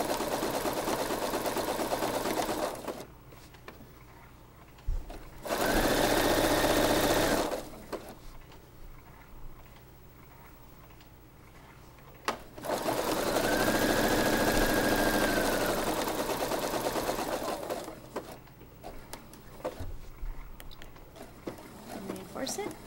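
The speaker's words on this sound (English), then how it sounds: "zigzag between those 2 lines so that your flannel does not fray" A sewing machine zigzag-stitches flannel in two loud bursts of rapid mechanical whirring, separated by quieter gaps where someone talks.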